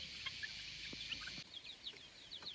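Chickens cluck and chirp in short, repeated calls while being herded into their coop on a rural farm, mid-distance over a steady hiss of background noise.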